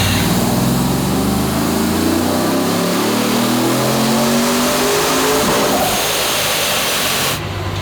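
A supercharged engine in a sleeper work van screams hard on a dyno, loud and close, revs sweeping upward through a sustained full-throttle pull before cutting off abruptly near the end.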